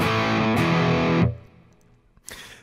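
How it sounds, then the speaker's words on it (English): Electric guitar with the volume knob on 10 for full distortion, playing a loud, thick sustained chord in a rhythm style that cuts off abruptly, followed by a quieter picked note. "if you have the volume knob on 10, you have full distortion."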